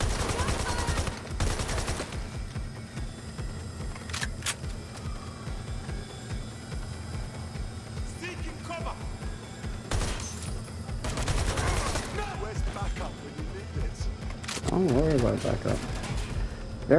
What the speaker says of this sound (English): I'm using a real gun.